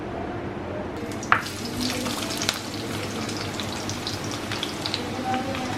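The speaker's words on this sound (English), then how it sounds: "in some hot oil, she has put the sliced onions, 2 medium-sized onions which have been sliced finely" Two finely sliced medium onions frying in hot oil for a rice and bread pulao, a dense continuous sizzle close by with scattered crackles and one sharper spit near the start.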